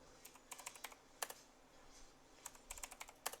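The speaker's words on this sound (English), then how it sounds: "So you just type the new password" Password typed on a computer keyboard in a Linux terminal, quiet close key clicks in two quick bursts separated by a short pause.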